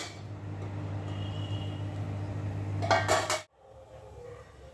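A lid clanks down onto a cooking pan as raba bora fry, a brief metallic clatter over steady frying noise that quiets once the pan is covered.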